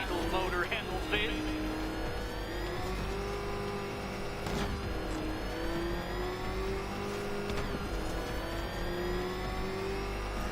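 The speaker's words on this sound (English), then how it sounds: "Can that ramshackle motor handle this?" A car engine revs and surges continuously at close range in Batman: Arkham Knight, its pitch rising and falling as the vehicle accelerates, with game sounds layered on top.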